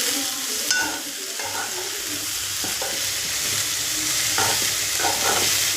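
Dried prawns with salt frying in a pan while being stirred, a continuous close sizzle broken by regular scraping and clinking strokes of the spoon, with no voices.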